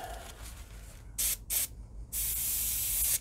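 An airbrush spraying paint onto a mummy bust, with two short hissing bursts followed by a longer steady spray up close, no talking.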